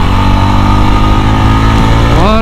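Yezdi Roadster motorcycle engine idling loudly and close up, a steady harmonic rumble with a brief rev rising near the end.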